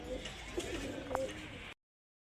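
Soft, low pigeon coos come in a few short murmurs against quiet background noise.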